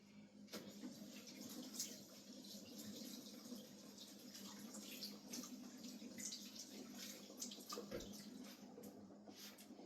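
Running tap water rinsing salt off saltfish for ackee and saltfish, a continuous splashing wash with small irregular spatters, fairly faint and steady throughout.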